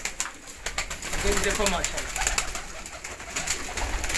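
Pigeons, a Jonsiry and Shahparwaz breed flock of Faisalabadi and French fancy birds, coo softly and steadily close by, with a brief wing flutter, while someone speaks a short word over them.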